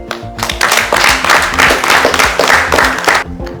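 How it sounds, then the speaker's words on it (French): An audience at an entrepreneurship summit in Benin applauds in a short, fairly loud burst of dense clapping that swells and then fades over a few seconds. "Je souhaite que vous puissiez applaudir pour vous-même."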